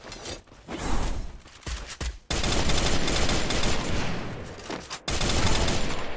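Gunfire in the Free Fire video game: dense bursts of rapid shots, loud and close, broken by brief pauses, with mechanical clatter and no talking.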